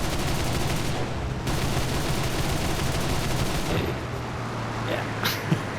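Aircraft cannon and machine-gun fire in War Thunder arcade battle from a Do.335A-0 Pfeil fighter, a dense continuous rattling burst running throughout over a steady engine drone, with a brief pause and a sharp impact near the end.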